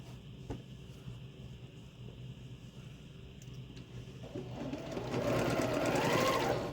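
A sewing machine stitches two quilt blocks together, its motor whirring steadily in the background and swelling louder and busier over the last couple of seconds.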